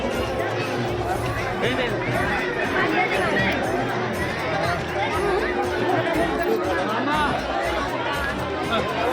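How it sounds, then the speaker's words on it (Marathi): Dense crowd chatter at the Renuka Devi temple in Mahur, many overlapping voices forming a steady, loud babble throughout with no single speaker standing out. "हे बघा दर्शन घ्यायसाठी गर्दी"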